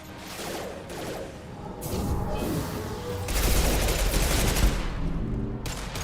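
Weapon fire in Mass Effect 2, bursts of shots and booming impacts swelling through a combat scene, loud and close, with a short voice line near the start.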